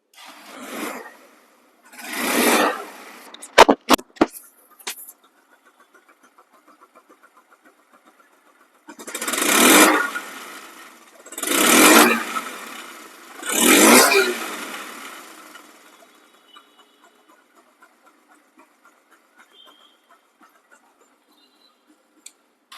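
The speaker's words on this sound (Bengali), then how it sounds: "বাইকটি সাউন্ড কোয়ালিটি শুনুন" A second-hand Hero Ignitor motorcycle engine revs in three or four loud, surging bursts, settling to a quieter steady idle hum between them, with no talk.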